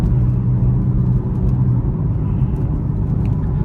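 A 500 hp BMW M4 driven over bumpy back roads, heard from inside the cabin as a steady, loud low engine drone and road rumble that holds without a break.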